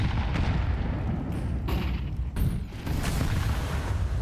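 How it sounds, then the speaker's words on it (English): A grenade goes off at a player's feet during a professional Counter-Strike match, a loud, dense blast that fills the whole clip with sustained rumbling roar and brief dips, no voices over it. "Oh, taking a bit of a nade to the feet there."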